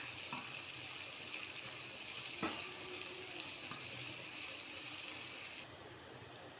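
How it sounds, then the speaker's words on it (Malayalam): Chopped onions with a pinch of salt sauté in coconut oil in a pan, giving a steady, fairly faint sizzle with a few soft clinks of stirring. "നമുക്കതൊന്ന് വഴറ്റിയെടുക്കാം."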